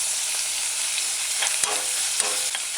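Onions and scallion sauté in a pan on a medium-low stove, giving a steady close sizzle with a few soft clicks and scrapes of stirring.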